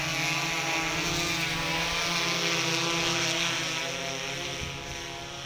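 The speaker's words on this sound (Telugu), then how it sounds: "బాలానగర్ జోన్లో మొదటిసారిగా డ్రోన్ కెమెరా ప్రయోగిస్తున్నట్టు తెలిపారు" A police drone camera flies overhead, its steady high-pitched rotor whine droning loud and close and easing off slightly toward the end, with no talking.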